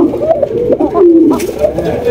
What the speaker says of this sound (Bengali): এই দেন কবুতরের ডাক দেখেন ভাই